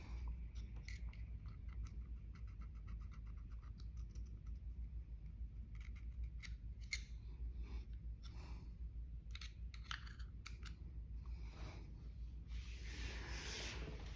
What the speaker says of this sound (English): you have to scrape that stuff off.